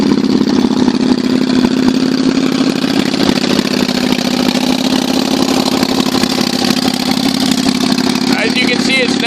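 A Kawasaki Vulcan 800 motorcycle engine runs at a steady idle, loud and close, with a constant throbbing rumble throughout and a voice talking over it.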